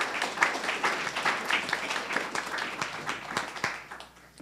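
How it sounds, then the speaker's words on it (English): Audience applause at a panel talk event, steady crowd clapping throughout at moderate distance, fading toward the end with no talk over it. "Let's give them a round of applause"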